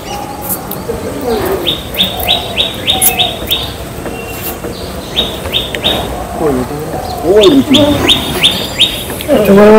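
Pigeons sound off at an outdoor pigeon flying competition as birds land: quick repeated chirps and coos come in bursts, near and fairly loud, with voices and crowd chatter mixed in.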